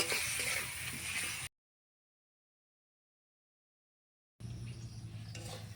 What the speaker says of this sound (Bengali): এখন এই মশলাটা ভালো করে আমি কষিয়ে নেব